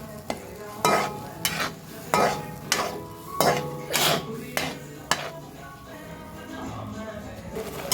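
A spoon stirs and mixes country chicken with ginger-garlic paste in a pot, giving about eight sharp, rhythmic scraping clanks over a soft background sizzle before settling into quieter mixing.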